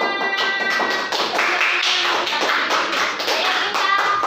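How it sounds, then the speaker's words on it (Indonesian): A classroom full of students clapping hands together in a dense, steady burst of overlapping claps, loud and close throughout, with faint tonal ringing underneath. "Oke, tepuk tangan."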